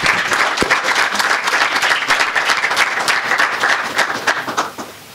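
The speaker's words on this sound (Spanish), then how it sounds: "Por favor, también un gran aplauso" Audience applause at a student debate tournament, close and loud with individual claps audible within the crowd, continuing for several seconds before fading near the end.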